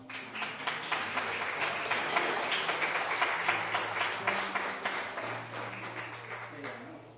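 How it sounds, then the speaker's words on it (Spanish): A church congregation applauds as their pastor is introduced, with rhythmic, fairly loud clapping from many hands close by that swells and then gradually thins out over several seconds, with faint voices underneath. "Recibimos con un caluroso aplauso."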